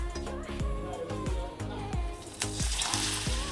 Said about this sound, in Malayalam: അപ്പോൾ പപ്പടമൊക്കെ നന്നായിട്ട് മൂത്ത് വരുന്നുണ്ട്